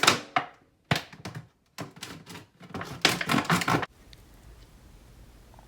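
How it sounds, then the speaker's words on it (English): A knife cuts into the bottom of a plastic bottle with a series of sharp crunching stabs and thunks, close and irregular, then stops into near silence. "I grabbed a knife and began cutting at the bottom of the bottle"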